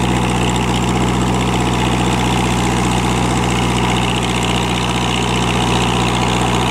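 An Isuzu-engined tractor with a 100-horsepower engine idles close by, a loud, steady low rumble with a constant vibrating drone and no pauses.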